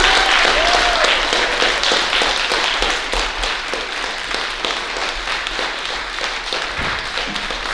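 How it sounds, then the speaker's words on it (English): Audience applause at a memorial tribute, a dense crowd of hands clapping with scattered louder claps, loud at first and easing slightly, with a faint voice briefly underneath. "Let us all just make some noise and put our hands together for Ronald Lloyd Harvey Abrams"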